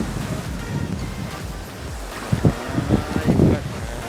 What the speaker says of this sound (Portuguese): Barulhinho da água.